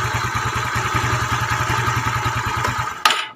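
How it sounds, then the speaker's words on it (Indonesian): Yamaha Mio/Nouvo scooter engine with a custom camshaft and a stock 54 mm piston idles steadily and close, a fast even putter that cuts off abruptly near the end. "jadi yang denger suara motor ini aja guys"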